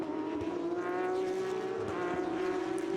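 A Porsche race car in qualifying at the Nürburgring brakes hard into turn 1, its loud, steady engine note drawn out across the whole stretch, with faint tire noise and no voices.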